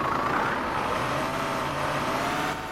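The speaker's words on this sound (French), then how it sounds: "voici le moteur diesel" Diesel engine of a Citelis 12 city bus idles in the OMSI 2 bus simulator, a steady, even rumble with a faint high whine above it, holding constant throughout.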